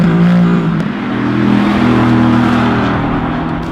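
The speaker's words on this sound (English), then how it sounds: "they managed to make this engine not only very powerful, but it also sounds great" A 2018 Mercedes-AMG GT Roadster's twin-turbocharged engine pulls hard under acceleration, a loud, close, droning exhaust note with rising and shifting tones across the stretch, no talking heard.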